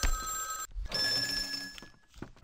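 Old-style telephone bell ringing inside the vampire RPG Vampire: The Masquerade - Bloodlines, two bright ringing bursts separated by a brief gap, close and clear with no talk.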